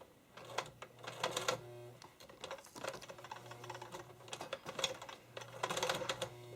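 A roughly 100-year-old sewing machine stitches in quick bursts, its needle rattling in rapid clicking runs separated by short pauses, close up and fairly quiet with no voices.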